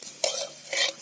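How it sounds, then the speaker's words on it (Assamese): Luchi puffed flatbread frying in hot oil, with two short bursts of bubbling sizzle and a scrape of a spatula against the pan. "এই লুচি ভাজি আছো"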